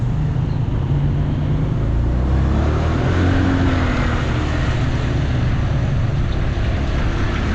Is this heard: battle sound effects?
no